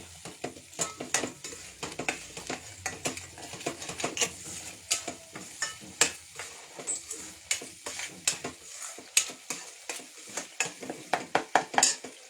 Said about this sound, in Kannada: ಲೈಟಾಗಿ ಸಾಟೆ ಮಾಡ್ಕೊಳ್ಬೇಕು. ಚೂರು ಎಣ್ಣೆ ಬಿಟ್ಕೊಂಡು ಬರೋವರೆಗೆ